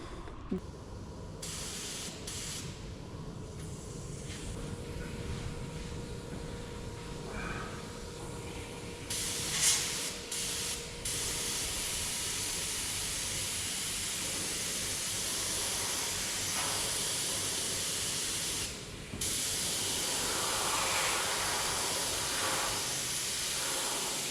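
Spray paint hisses steadily onto a truck chassis, a continuous close airy spray running almost unbroken for many seconds with a couple of brief breaks.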